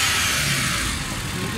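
A Suzuki Cultus EFI engine runs steadily just after starting, a continuous loud mechanical hum with broad hiss and no clear revving changes throughout.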